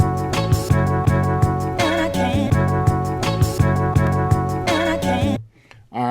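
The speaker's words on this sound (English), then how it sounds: "So now, just like the other song, I can alternate these two snares." Alternating snare drum samples cut from old soul vinyl records drive a looped beat, with punchy hits repeating in a steady rhythm over a full musical backing before dropping out near the end.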